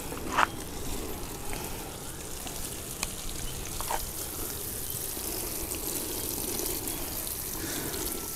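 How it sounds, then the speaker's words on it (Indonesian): Plain water poured evenly over soil in a grapevine planter bag, a soft continuous trickle and soak with a few faint drips, quiet and close with no talking. "Nah, kita siram merata."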